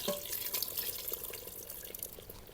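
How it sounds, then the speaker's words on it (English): Pork strips and cooking liquid poured from a hot cast iron pan into an Instant Pot, a faint, splashy trickle of liquid with small drips and clinks that runs continuously, no talking. "we're just gonna pour this inside"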